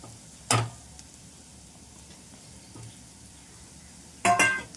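Fried dried bombil fish being stirred into masala in a pan, with a soft steady sizzle and two brief louder scrapes of the spoon against the pan, one near the start and one near the end.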